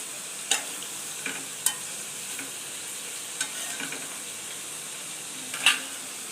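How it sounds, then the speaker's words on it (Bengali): Food frying in oil in a pan, a soft even sizzle broken by a handful of sharp scraping stirs and clinks at irregular intervals, quiet and close with no talking. "একটু ভাজা ভাজা হয়ে করবে।"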